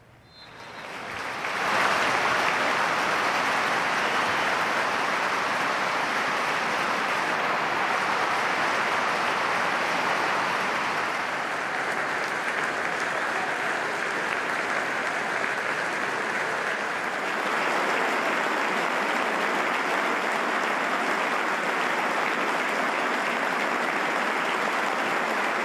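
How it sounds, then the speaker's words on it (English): A football stadium crowd gives a minute's applause in tribute to Pele, swelling quickly into a vast, continuous roar of clapping that holds steady with only slight dips across the stands. "those who could paid their respects with a minute's applause"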